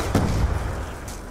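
Mustang pistol fires explosive rounds in Black Ops 2 Zombies, a couple of heavy, booming blasts in quick succession, loud and close with rumbling low end.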